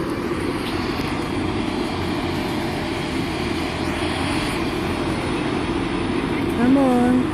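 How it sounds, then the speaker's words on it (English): A helicopter taking off at Lake Rotorua, New Zealand: its engine and rotors drone steadily close by, a constant loud whirring roar that swells slightly near the end. "come on, helicopter, let's take off"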